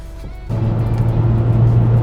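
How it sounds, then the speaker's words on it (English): A car, an Evo X or Porsche 911, picks up in a second gear pull: after half a second of lighter cabin noise the engine abruptly loads up into a loud, steady droning rise heard from inside. "So we're going to start by doing a second gear pull just to make sure everything's kosher."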